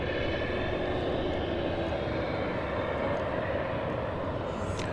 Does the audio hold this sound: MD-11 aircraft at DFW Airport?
yes